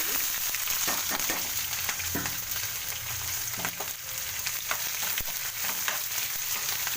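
Mustard seeds, cumin, urad dal, chana dal, garlic and onion fry in hot oil as a tempering for tomato chutney, giving a continuous close sizzle with scattered crackles and pops and a few utensil taps.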